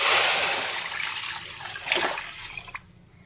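Water gushes and splashes steadily into a pot of rice, tapering off near the end with a few drips before going quiet.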